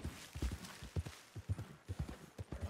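Horse hooves clip-clop at a steady walking pace in Red Dead Redemption 2, a close series of soft, evenly spaced thuds with no one talking.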